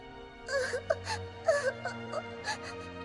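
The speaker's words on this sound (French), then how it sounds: "Alors arrête de pleurer." A girl in a French-dubbed Tekken film cries and wails in rising, broken sobs, several drawn-out moaning bursts over a low sustained musical drone.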